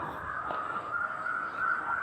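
Crows cawing repeatedly against a steady background, harsh calls running throughout at moderate distance.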